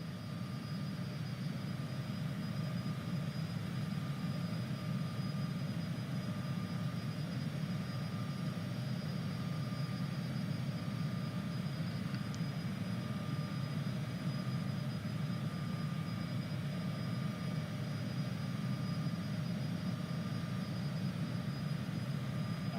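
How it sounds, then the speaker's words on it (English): Steady, broad jet engine roar from a Cessna CJ4 business jet cruising in a flight simulator game, a constant low drone with a faint high whine, continuous and unchanging throughout with no talking. "This kind of like jet engine noise."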